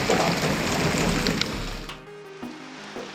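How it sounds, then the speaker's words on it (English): Golf ball-sized hail pounds down during a motorcycle trip to Sturgis, a dense loud roaring clatter that thins after a couple of seconds, leaving scattered hits and a faint tonal hum. "A man found himself caught in a terrifying hailstorm during his supermoto trip to Sturgis in 2023"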